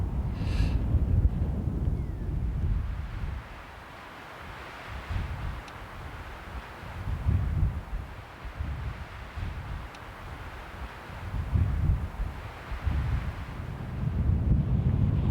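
Strong wind in the Titcomb Basin of the Wind River Range buffets the microphone in deep, rumbling gusts that rise and fall repeatedly, with quieter lulls between them.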